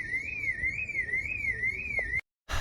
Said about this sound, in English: Car alarms.